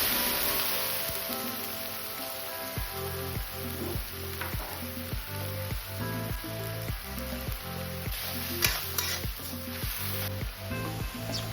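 Onions with a blended ginger, garlic, and chili paste fry in oil left from frying fish, a steady close-up sizzle with occasional pops and a soft, regular knocking of stirring.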